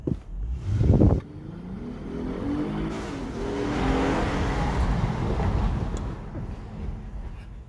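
A 2018 Acura A-Spec AWD car engine pulls through city streets, with a brief loud burst up front and then a steady, rising engine drone that swells and holds at moderate volume.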